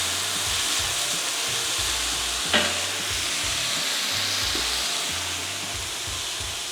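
Chopped silver beet (Swiss chard) stems cook in a hot pan, giving a constant close sizzle broken by rhythmic scraping of stirring and one sharp clack from a utensil partway through.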